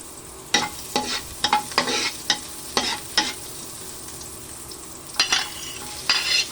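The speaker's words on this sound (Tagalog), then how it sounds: "So, ayan ang ating bawang. Igisa lang natin." Garlic sautéing in a pan, giving a steady low sizzle broken by repeated bright scraping bursts as it is stirred, loud and close, with no talking.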